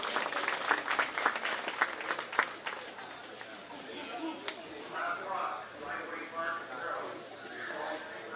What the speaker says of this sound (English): Give them a great big round of applause on their way back.